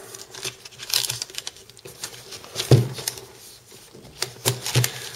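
Unboxing a Motorola Xoom 2 Media Edition tablet: close cardboard rustling, crinkling and handling taps as the box is opened, with irregular soft bumps and scrapes and no talk.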